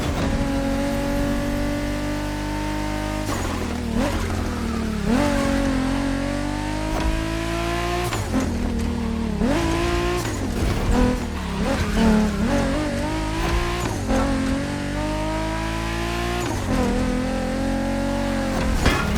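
Race car in The Crew Motorfest accelerating hard, the engine revving loud and up through repeated gear changes with tire squeal and skids, steady and close throughout with no talk.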